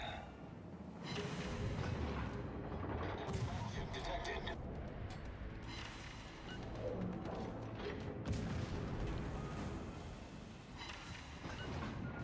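Warship naval guns firing in the World of Warships video game, heavy booming salvos and rumbling explosions filling the whole stretch at a steady, loud level, with voices over the battle noise.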